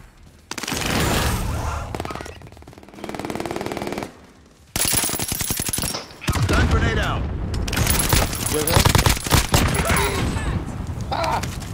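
Rapid automatic gunfire from the video game Call of Duty: Modern Warfare Warzone in Plunder mode comes in loud, dense bursts with short pauses between, interrupted by a brief lull, with sharp crackling shots dominating.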